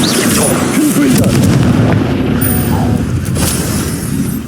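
Confringo fire-blast spell explosions in the Hogwarts Legacy video game, a dense, loud barrage of booming blasts and crackle that runs steadily through the whole stretch.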